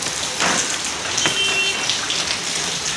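Heavy monsoon rain pours steadily during a flood in Vasai, a dense continuous hiss of drops close by, with no voices.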